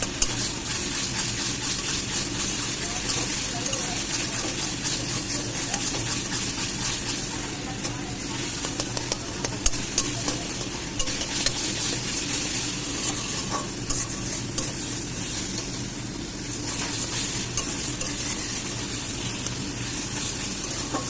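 Mashed eggplant for begun bhorta is stirred and worked in a pan, a steady close scraping and soft sizzling texture running continuously without pause.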